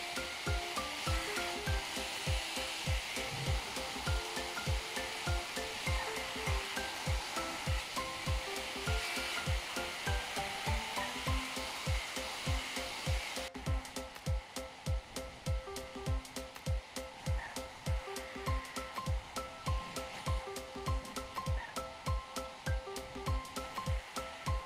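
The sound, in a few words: hair dryer blowing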